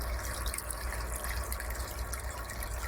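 Water pours steadily from an inflow into a large Oscar fish tank during a 450-gallon water change, a continuous close rushing splash with no pauses and no talking.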